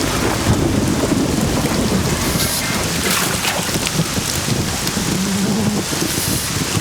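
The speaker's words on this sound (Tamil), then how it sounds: "மழை நல்லா பெய்யுது" Heavy rain pours steadily and loudly, with thunder rumbling through the downpour, a dense continuous wash of storm noise without speech.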